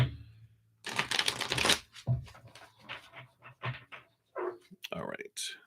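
Quick riffling bursts of tarot cards being shuffled, a few crisp flurries with short pauses between, fairly close and moderately loud.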